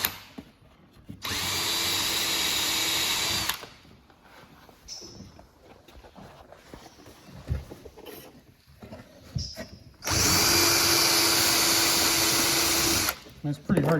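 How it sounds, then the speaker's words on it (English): A power tool whirs loudly in two sustained bursts of a few seconds each, digging hard candy out of a queen bee cage, separated by a quieter stretch of scraping and handling sounds. "So we got tired pretty quick of digging that candy out by hand. So we're gone to the power tool."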